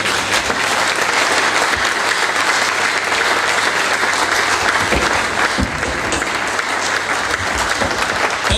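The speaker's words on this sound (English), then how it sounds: "A round of applause." Sustained applause from a conference audience after a keynote address at a pharmacists' association meeting in Nigeria, dense and steady clapping filling the hall with no speech over it.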